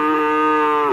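A single loud, close moo from a cow at a cattle market, one sustained tonal call lasting under a second with no talk.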